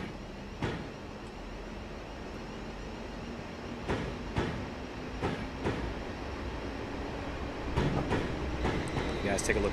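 A long Class 444 electric multiple unit runs on the Portsmouth Direct Line in Train Simulator 2015, its steady rolling hum broken by periodic sharp track clicks, under faint speech.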